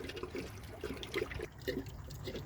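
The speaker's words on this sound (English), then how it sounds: "It's gonna basically take a lot of the water that's already filled in here, and it's gonna go down" Water draining out of a Hayward pool filter tank, a continuous close trickling and gurgling flow with small surges, heard alone without talk.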